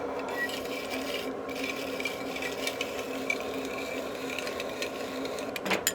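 Food is rubbed over a small cheese grater in a continuous, close scraping rasp, with a few faint clicks and knocks near the end.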